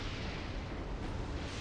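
Grenade blasts in the video game Space Marine form a dense, continuous rumbling roar, loud and unbroken across the whole stretch with no clear gaps between the explosions.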